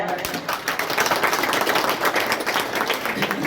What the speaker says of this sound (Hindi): आप लोग तालियों से स्वागत करें।